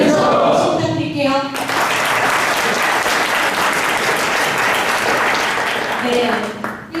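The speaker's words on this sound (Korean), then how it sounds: "고벤처 박수 부탁드릴게요" A forum audience claps at the opening of a talk on artificial intelligence, following a host's short speech at the start, then breaks into loud, steady applause filling the room for several seconds before fading.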